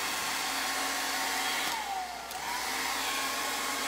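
A hair dryer runs continuously with a loud, close, steady whirring roar. Its pitch dips briefly midway, then recovers.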